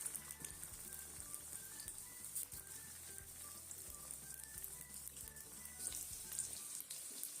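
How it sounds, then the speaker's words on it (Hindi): Chicken pieces frying in hot oil over medium heat for a Chicken Manchurian recipe give a steady, close, even sizzle with fine crackling that carries on throughout, with no talking. "ऑयल हमारा गर्म हो गया। इसमें हम चिकन डाल के इसको फ्राई कर लेंगे।"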